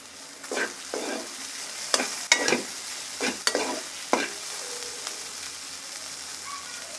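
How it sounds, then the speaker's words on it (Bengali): Fried mola fish sizzle in a pan as they are stirred into a spiced curry with radish greens; a spatula scrapes in a series of sharp, uneven strokes over a soft, steady frying hiss, with no talking. "এখন মাছগুলো আমাদের ভাজা হচ্ছে"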